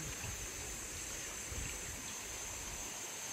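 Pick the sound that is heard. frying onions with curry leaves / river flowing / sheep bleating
river flowing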